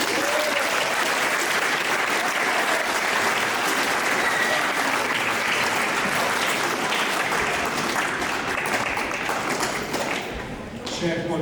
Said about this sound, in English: Again, a nice big round of applause.